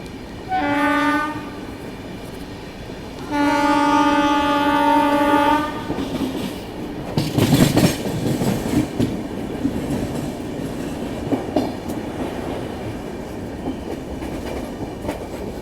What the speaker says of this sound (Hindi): बाकी अपनी ट्रेन का अराइवल हो रहा है समलकोट जंक्शन रेलवे स्टेशन पे।